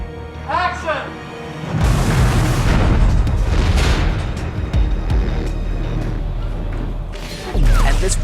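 A huge explosion on the set of Fast & Furious 7 booms loudly and rolls on as a long, rumbling crash of debris, with a second heavy blast near the end and brief voices at the start.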